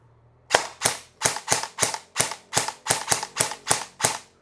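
Airsoft gun fired on semi-auto: about thirteen sharp, loud snapping shots in an uneven rhythm, close by with quiet gaps between them.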